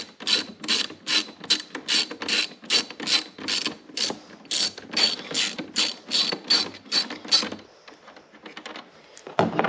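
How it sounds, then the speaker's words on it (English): A ratchet with a 13mm socket unbolts the positive battery terminal bolt on a C7 Corvette, giving a close, steady run of sharp clicking bursts for most of the stretch before a brief pause and a few final clicks. "So we're going to unbolt our positive terminal here."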